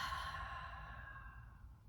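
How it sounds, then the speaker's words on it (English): A single long, deep exhale pushed out through an open mouth during a guided breathing exercise, steady and close, fading gradually over about two seconds with no talking. "Exhale out your mouth."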